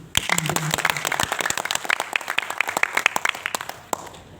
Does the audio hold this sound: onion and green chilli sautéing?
no